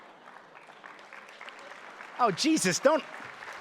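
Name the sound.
audience applause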